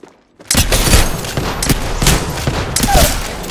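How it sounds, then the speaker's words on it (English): Dense gunfire in a battle royale video game, a rapid volley of shots starting abruptly after a brief quiet moment and continuing loud and close, with bursts overlapping throughout. "They spot me. I'm taking shots."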